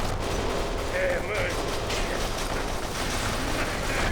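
Gunfire in the third-person shooter Kane and Lynch 2, a dense, continuous wash of shots and impacts with a voice talking over the chaotic battle noise.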